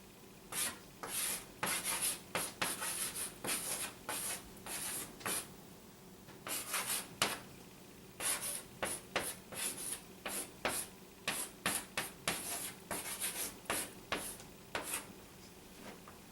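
Words are written out by hand in a run of quick scratchy strokes, grouped into short bursts with brief pauses between them, close and fairly quiet.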